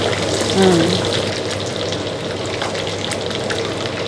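Lemongrass frying in oil for a Thai lemongrass salad gives a continuous bubbling sizzle, loudest near the start, then holding steady and close.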